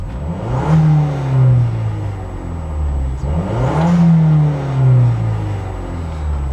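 A Mazda Speed3 fitted with a Turbo XS blow-off valve vented to atmosphere, recorded from inside the cabin: two revving pulls, each with a rising engine whir and a rush of venting air as it eases off. No one speaks.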